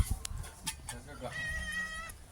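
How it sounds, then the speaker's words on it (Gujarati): A few light knocks and rustles, then a single drawn-out cat meow close by. "જો બિલ્લી આવી ગઈ છે"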